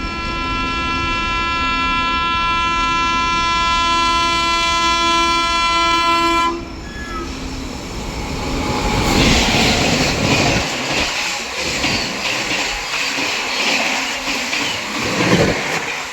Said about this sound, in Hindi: गरीब रथ एक्सप्रेस अपनी ट्रेन को ओवरटेक करने आ रही है बड़तना स्टेशन पे।